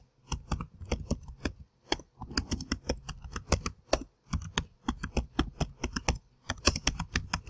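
Someone types on a computer keyboard in a lab, with rapid, uneven clusters of crisp key clicks close by and short pauses between the bursts.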